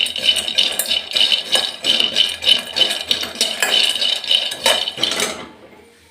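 Peanuts dry-roasting in a pan for chutney are stirred briskly, making a loud, rhythmic rattle and scrape of nuts and spoon against metal that repeats steadily and then stops near the end.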